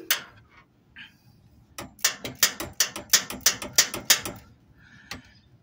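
A ratcheting wrench working a bolt on the starter of a 2008 Toyota Sequoia, heard as a burst of about a dozen quick, evenly spaced metallic clicks, close and crisp, with a few isolated clicks before and after.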